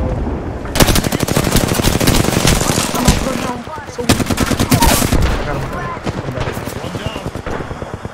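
Rapid video game gunfire rattles in long dense bursts with brief pauses, loud and close, layered over continuous game noise and occasional voices.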